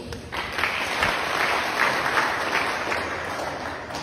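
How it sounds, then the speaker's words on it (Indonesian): A crowd at a regional MUI council assembly in Keerom claps for Dr. Ahmad Muhammad Farid Wahid, a dense, even burst of applause lasting several seconds, loud and close, with no talk over it. "Kita beri aplaus."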